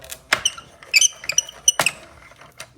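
A paper pinwheel craft squeaks as it is handled, giving a few sharp, high squeaks and creaks in quick irregular bursts. The sounds are close and clear, with no talk over them.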